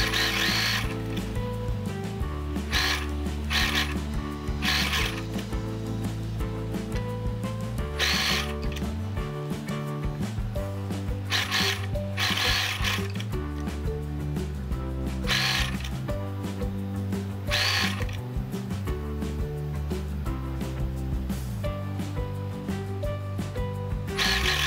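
Sewing machine running a long continuous seam around a folded blouse hem, turned once at 1 cm and again at 2 cm; a steady mechanical stitching rattle with brief pauses throughout, close and fairly loud with no talking.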